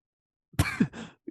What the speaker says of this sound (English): I'm having an absolute coughing fit away from the mic